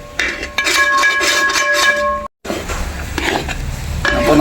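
Thick jackfruit varatti with cashew nuts and ghee is stirred in a pan, the spoon scraping and clattering in a busy rhythm with a soft sizzle underneath and a brief pause partway through.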